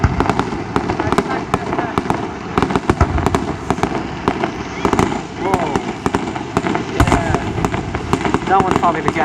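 Canada Day fireworks finale with a Gatling gun cake firing rapid, dense bursts of loud crackling pops and bangs in quick succession, while excited spectators talk and exclaim throughout.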